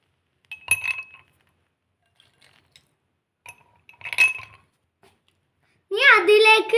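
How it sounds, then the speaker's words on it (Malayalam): Ice cubes clink into a glass for hibiscus juice in two short, bright bursts a few seconds apart, with a voice speaking at the end. "ഒരു ഗ്ലാസ്സിലേക്ക്"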